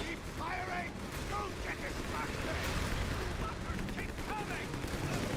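Stuka dive bomber strikes landing in Company of Heroes, rumbling explosions and battle noise rolling under someone talking, with scattered blasts and a muddy, distant wash of combat throughout.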